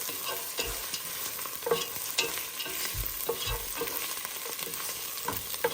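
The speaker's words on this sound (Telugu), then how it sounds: "అలాగే కొత్తిమీర ఇవి కూడా వేయించుకోవాలి" Mint and coriander leaves fry in a pan for Hyderabadi bagara rice, giving a continuous close hiss with frequent scraping stirs and soft knocks of a spoon against the pan, and no voices.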